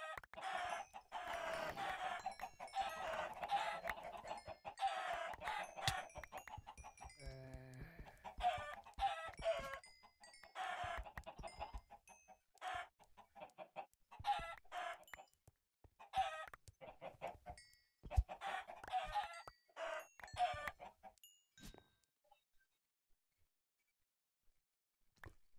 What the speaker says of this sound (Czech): Samý slepice.